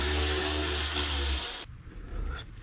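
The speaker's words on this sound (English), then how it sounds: "And I'm using a T30 Torx bit." A power driver with a T30 Torx bit spins out a fan screw on a MK4 VW Golf, a loud steady whirring for about a second and a half, then stopping abruptly into quieter handling noise.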